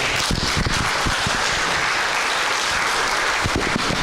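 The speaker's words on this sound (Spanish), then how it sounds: "Regálale un fuerte aplauso al Rey en esta mañana." Church congregation giving a loud, sustained round of applause during a Sunday morning service, dense overlapping clapping filling the hall with no voices over it.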